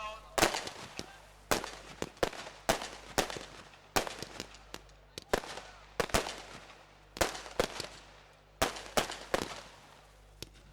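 Fireworks and firecrackers going off at the close of a cricket league final in Alibag, loud sharp bangs in irregular bursts and rapid clusters over about ten seconds, with crackling between blasts and faint background voices.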